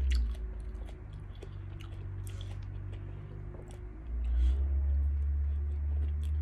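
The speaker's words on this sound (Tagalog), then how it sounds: "Kain ka, once in a while, ganitong mangga na mayroon alamang." Someone eats green mango with shrimp paste, chewing and biting close up in steady soft crunches over a low background hum, with no talk.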